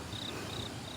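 Crickets chirping at night on a mountain, with fireflies about, a steady rhythmic trill repeating in evenly spaced pulses over a faint constant background, fairly close and alone.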